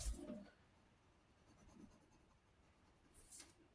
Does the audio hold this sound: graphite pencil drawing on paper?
yes